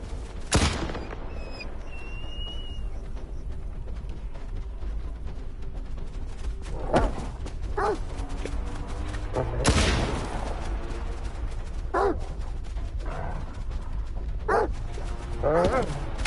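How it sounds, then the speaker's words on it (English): Blind dogs barking in the S.T.A.L.K.E.R. 2 video game on PS5, scattered sharp barks and yips mixed with gunshots, irregular bursts at moderate loudness over game ambience. "Blind dogs always show up."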